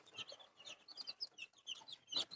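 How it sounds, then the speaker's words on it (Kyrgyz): Young black hen chicks, hatched in a homemade incubator and kept in a brooder with about 150 others, peep in quick high chirps, a busy flock heard close and fairly soft. "Мынакей 150 штук жөжө бар."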